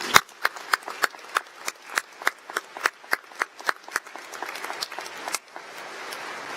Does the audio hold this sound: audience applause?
yes